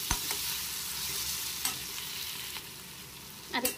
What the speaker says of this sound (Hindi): तो इसको फ्राई करते हुए 2 मिनट्स हो गए हैं